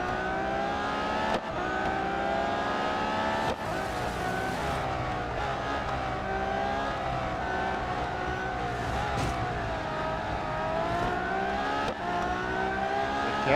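Race car engines in the Real Racing 3 video game rev hard and continuously, a loud layered whine rising and falling with gear changes, with several sharp shift cuts along the way.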